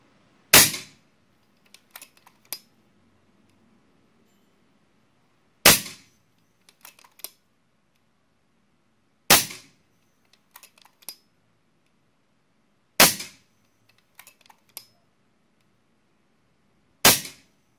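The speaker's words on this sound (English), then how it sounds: "the impact with the 25 grain Inferno REX slugs on 30 meters" 25 grain Inferno REX airgun slugs fired at a target 30 meters away: five sharp shots spaced a few seconds apart, each followed by faint, brief impact ticks and clicks.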